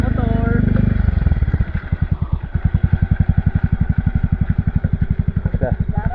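A motorcycle near a river idles with a rough, rapid putter after an initial louder revving drone, the pulses loud, close and evenly spaced, with voices talking over it.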